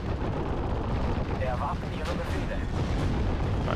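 Mortar fire in the World War II strategy game Steel Division: Normandy 44 sounds as a dense rumble of distant booms and crackling impacts, layered with continuous battle noise throughout.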